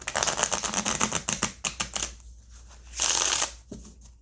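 A deck of playing cards is riffled and shuffled in quick bursts of crisp flicking, followed by a pause and a second brief riffle.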